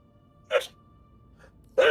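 Two short sneezes from a person indoors, each a sudden close burst, separated by a quiet stretch with a faint breathy sound between them.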